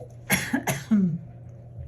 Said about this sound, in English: the sage is clearing my throat, right?